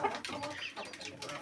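Feather-legged hens cluck close by in a brief burst of short, choppy calls.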